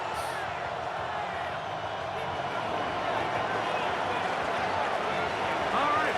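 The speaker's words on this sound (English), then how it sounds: "The crowd is definitely ready." A stadium crowd roars in Madden NFL 26 ahead of a Cleveland Browns versus Detroit Lions game, a steady wash of cheering that runs throughout beneath a commentator's talk.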